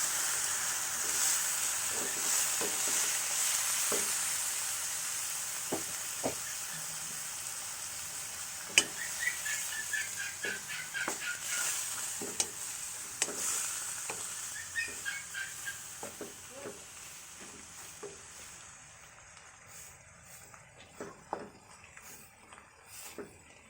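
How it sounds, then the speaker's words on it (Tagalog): Pork for adobo sautéing in a pan, a soft steady sizzle broken by repeated light clicks and scrapes of stirring, gradually fading quieter toward the end without speech. "So, gisa-gisa muna bago ang salt."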